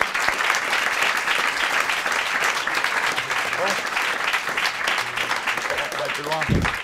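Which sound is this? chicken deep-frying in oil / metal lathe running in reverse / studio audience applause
studio audience applause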